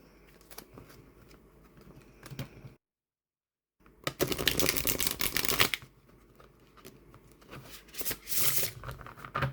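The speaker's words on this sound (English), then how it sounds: "I'll give this a quick shuffle." A Llewellyn vampire tarot deck is shuffled nearby in several bursts of crisp card riffling, separated by a short silent gap and quieter handling.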